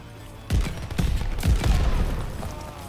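Gunfire from a weapon in Call of Duty Vanguard, Armageddon mode on the Gavutu map: several loud, booming shots land in quick succession, then run into a dense, sustained roll of firing.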